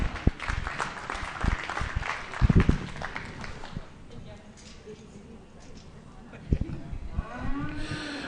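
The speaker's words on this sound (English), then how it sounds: "Let's give him one more round of applause." Clapping from the audience at the Irish Dexter cattle show at the 2020 National Western Stock Show, uneven applause mixed with cattle lowing and an announcer talking, easing off partway and then rising again with more moos.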